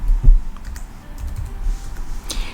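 Computer keyboard keys tapped in a short burst while text is typed into Inkscape, the clicks close and crisp but fairly quiet, with a brief louder thump near the start.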